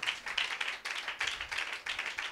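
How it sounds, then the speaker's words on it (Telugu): A church congregation claps hard in a dense, rhythmic burst of many hands. The clapping is fairly quiet and distant, rising and falling in repeated waves with no speech over it. "కొట్టు చప్పట్లు గట్టిగా"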